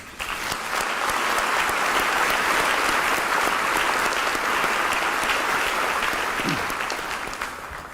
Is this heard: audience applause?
yes